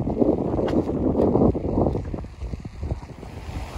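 Strong wind buffets the microphone on a beach by a hotel on Saadiyat Island, Abu Dhabi, a loud gusty rumble with rough sea waves washing in beneath it.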